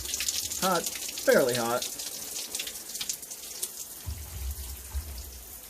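Hot water runs from a tap with sputters of air still in the line, a steady hiss of moderate loudness coming after two short spoken remarks.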